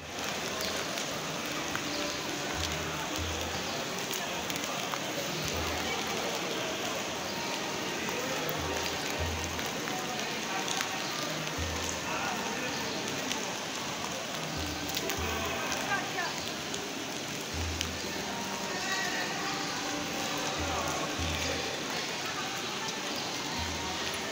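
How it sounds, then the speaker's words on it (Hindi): Rain pours at the Imam Ali shrine in Najaf, a dense steady hiss of drops on the courtyard with faint low thumps recurring throughout. "अमीरुल मोमिनीन के रोज़े पे बरसता हुआ पानी, बारिश की ये बूंदे"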